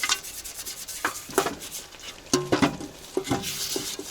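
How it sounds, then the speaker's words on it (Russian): Pork fat sizzling on a barbecue grill, with fat dripping onto the coals, heard as a constant crackling hiss broken by scattered sharp pops and ticks, close by and moderately loud. "На заднем фоне жарится салка. Жирок капает на мангал."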